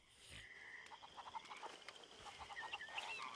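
Chickens in Red Dead Redemption 2, faint rapid clucking and chattering calls close by, continuing in a busy irregular rhythm with a few higher squawks toward the end, no talk.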